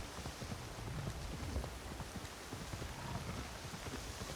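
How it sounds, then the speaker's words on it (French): Rain in the video game Assassin's Creed Shadows, a soft, continuous patter of drops with light crackling taps, quiet and even throughout with no talking. "Non, si, il pleut."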